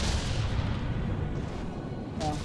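Rail guns fire in a robot battle video game, a dense, continuous rumbling barrage of booming shots under a busy mix, with a brief sharper burst near the end.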